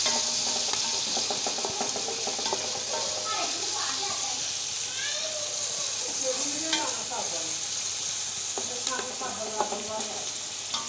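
Green chillies fry in a pulao pot with a constant bright sizzle and hiss, stirred now and then, while a person talks over the cooking throughout.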